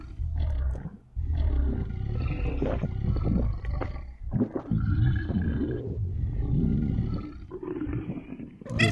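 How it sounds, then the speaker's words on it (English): Dragon in the video game Panftr roaring and growling, with deep rumbling growls and grumbles rolling on almost continuously, loud and close, broken by brief pauses. "I like his roars, his grumbles, his growl."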